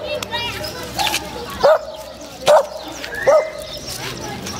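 A dog, likely a Husky, gives three sharp barks spaced about a second apart, with children's voices and outdoor chatter running underneath during a walk with several dogs.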